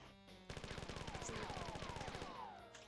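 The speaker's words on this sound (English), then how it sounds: "the brown bugs go down with one magnum shot" Magnum pistol gunshots ring out in the video game Marathon as a rapid, loud burst of repeated reports lasting about two seconds. No one talks.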